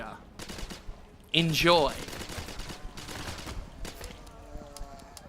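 Zombie-shooter gunfire in Dead Purge: Outbreak, a string of rapid shots and impacts around one sharp loud burst, with a voice speaking over the game noise.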